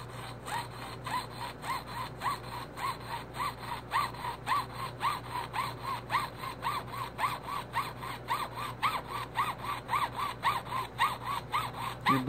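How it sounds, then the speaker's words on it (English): Jeweler's saw cutting through a silver quarter coin, a close, fast, even rasp of short back-and-forth strokes that repeats steadily all the way through with no voices. "I could go all the way through the coin and cut it in half"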